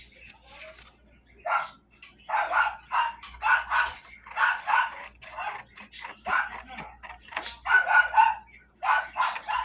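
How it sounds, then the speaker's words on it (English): Dogs bark in repeated bursts, fairly close, some sharp yips among deeper woofs, with short pauses between volleys. "The dogs are barking at them, hammering in the post"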